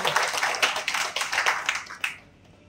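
A small audience claps at a restaurant opening in Kamareddy: a brisk, close burst of hand claps lasting about two seconds, ending with a final sharp clap and then quiet.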